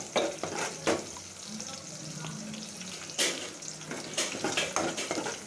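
Hot oil tempering poured into village-style bassaru sambar, with sharp sizzling bursts that flare and fade amid stirring and splashing from a pot close by.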